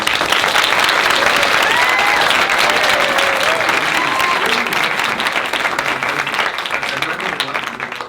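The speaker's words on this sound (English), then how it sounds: "Big round of applause for Pat." An audience breaks into sustained applause, dense clapping filling the room loud and close before slowly tapering off, with a few voices mixed in underneath.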